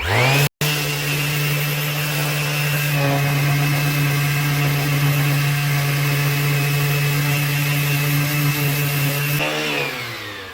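A handheld power sander grinds down an uneven step on a surface, giving a loud, continuous motor whine that cuts out for a moment near the start, then runs steadily before winding down at the end.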